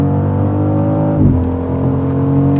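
A 2025 BMW X3 M50 accelerates hard at full throttle in sport mode, its engine drone loud and steady from inside the cabin as the pitch briefly dips at a gear change, then climbs again.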